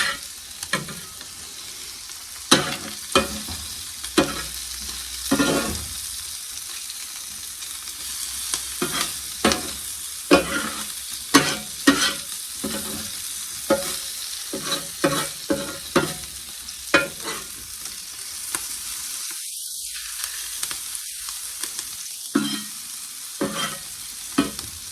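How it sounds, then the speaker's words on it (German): Hot dogs sizzle and fry in a pan, with a constant hiss broken by repeated scraping stirs and clacks of a utensil against the pan, close and fairly loud with no talking. "Und weiterhin einfach ein bisschen anbraten lassen."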